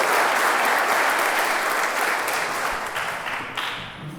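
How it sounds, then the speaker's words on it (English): Dense, loud applause fills the room at a jail program's publication event, steady at first and then gradually thinning toward the end. "I'd just like to give a round of applause for this class."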